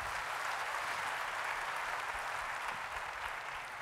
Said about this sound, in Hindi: एक बार उनके लिए जोरदार तालियां होनी चाहिए